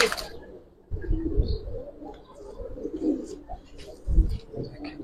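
Giribaz silver pigeons coo in low, rounded bursts close by, mixed with faint chirps and handling noises.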